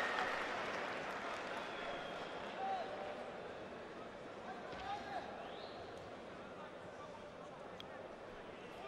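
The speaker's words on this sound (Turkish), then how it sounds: "Alkış alıyor Fevzi." Crowd applause and cheering at an indoor futsal match between Beşiktaş and Trabzonspor, a steady broad wash of clapping under continuous commentary.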